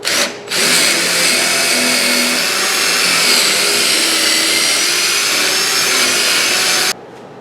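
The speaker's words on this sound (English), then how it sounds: "Now I'll drill my regular hole." A power drill runs steadily for about seven seconds drilling a hole after a pilot hole, a loud continuous whine biting into material, then cuts off abruptly.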